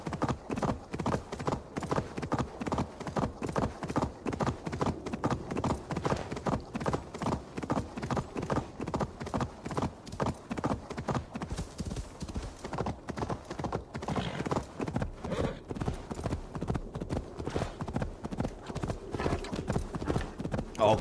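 Horse hooves beat a steady, rapid galloping rhythm through the whole stretch in Assassin's Creed Valhalla, close and loud, with an occasional whinny and faint game voice mixed in.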